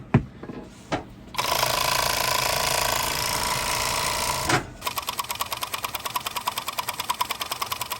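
An industrial overlock serger fitted with a new servo motor stitching fabric: a couple of short starts, then a steady whirring run, then a fast, evenly pulsing stitching rhythm, loud and close with no voices.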